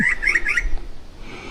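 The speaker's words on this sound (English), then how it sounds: "this is where all the birds are hanging out though" Birds at a bush campsite give a quick run of squawks and chirps, bright repeated calls up close, followed by quieter background calls.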